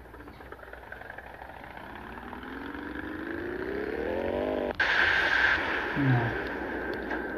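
Motorcycle engine in an Android bike jump mobile game, a steady synthetic drone rising in pitch as it revs, then a sudden sharper roar midway, fairly quiet throughout.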